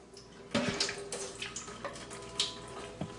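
Water is emptied out of the housing of a countertop water filter, splashing and dripping in short irregular bursts against a quiet background, close and fairly soft.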